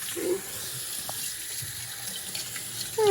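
Kitchen faucet running steadily as an item is rinsed under the stream, a soft continuous splash of water into the sink with small clinks, no talking.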